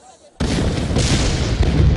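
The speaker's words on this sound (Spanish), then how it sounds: "Las explosiones estremecen la ciudad." Explosions and artillery fire shake a city during the Tet Offensive of the Vietnam War: after a quiet start, a loud blast bursts in and becomes a continuous, heavy roar of booming detonations.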